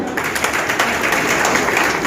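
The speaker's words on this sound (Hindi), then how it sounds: "ग्रेट गुरु मिस्टर सुमित जॉनसन जी के लिए तालियां हो जाए" A crowd at a hall event breaks into dense, steady applause, many hands clapping together loudly and continuously with no talk over it.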